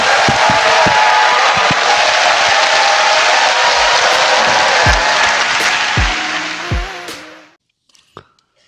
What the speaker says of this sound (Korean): 자, 박수 부탁드립니다.